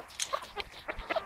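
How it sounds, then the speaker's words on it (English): A rooster on a small farm field gives a short run of quick, fairly faint clucks and squawks in bursts, close by, with no talking. "we have another rooster trying to attack me"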